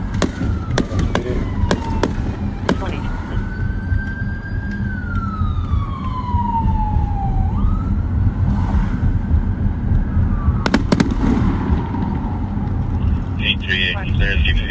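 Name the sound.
fireworks exploding in the distance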